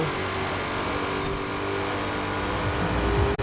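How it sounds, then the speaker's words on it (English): A 2020 Shelby GT500 engine in Forza Horizon 4 holds high revs with a thin, steady supercharger whine, continuous and close, then cuts off abruptly near the end. "I definitely do hear some supercharger whine that I haven't on any other car."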